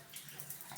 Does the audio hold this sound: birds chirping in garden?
no